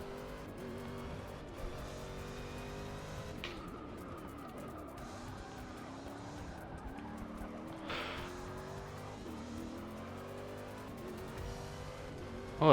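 Race car engines roar in the Forza Motorsport 6 video game during a simulated 2017 Rolex 24 race, with revving, gear shifts and a rival car running close alongside, plus brief tire squeals.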